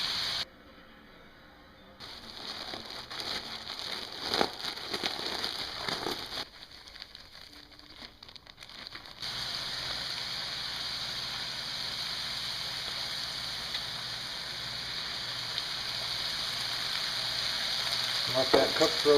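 Cajun pike sauce thickened with cheese cooks in a pan, giving a steady broadband sizzle and bubbling hiss that grows louder and fuller after the first several seconds, with occasional stirring scrapes early on.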